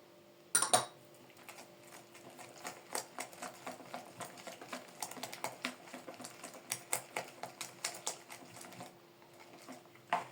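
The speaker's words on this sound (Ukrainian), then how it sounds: "Все це беремо і гарнесенько розколочуємо" A whisk or utensil beats dough ingredients in a bowl, producing quick irregular clinking taps against the bowl that run steadily for about ten seconds at moderate distance over a faint background hum.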